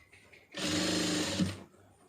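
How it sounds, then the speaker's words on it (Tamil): A sewing machine runs in one short, steady whirring burst of stitching through cloth, starting and stopping cleanly with quiet before and after, close and fairly loud. "ஒட்டில் வந்து தையல் போடுங்க"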